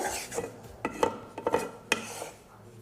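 A spoon scrapes and knocks against a pan in irregular clinks and rasps as barfi mixture made with ghee is stirred and roasted over a low flame, close up with faint background hiss.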